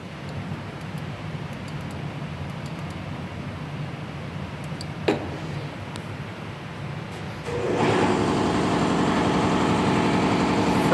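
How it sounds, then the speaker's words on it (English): An air compressor runs in a garage during an axle shaft seal job on a 1996 Ford F-150. A steady low motor drone grows noticeably louder and harsher partway through and then holds at that level. "Freaking air compressor."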